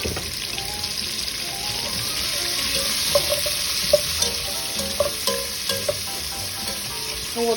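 Celery frying and browning in a soup pot, a steady loud sizzle with intermittent clinks and stirring scrapes near the middle and end.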